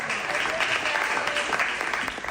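A burst of applause, dense continuous clapping from a crowd that holds steady throughout, close and fairly loud, with no voices over it.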